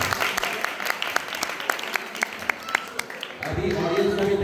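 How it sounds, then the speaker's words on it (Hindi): An audience in a televised Aap Ki Adalat courtroom-style show bursts into applause. Individual claps stand out sharply at first before building into fuller, louder clapping near the end. "एक बार तालियां"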